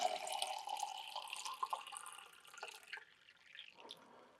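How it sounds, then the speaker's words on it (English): Water runs and splashes into a chopped-tomato tin close by, a brief gurgling pour that thins out toward the end. "And then we fill the tins up with water."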